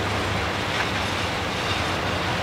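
Southbound B&P freight train rolling past in snow at Bradford, Pennsylvania, with the end-of-train device going by: a steady, loud rumble of wheels and cars, continuous throughout with no voices.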